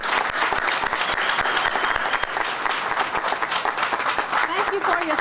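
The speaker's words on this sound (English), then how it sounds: "let's give all of our elected officials a round of applause" Sustained applause from an audience honoring elected officials at a community campaign gathering, dense and steady throughout with a few sharper claps near the front and faint voices mixed in.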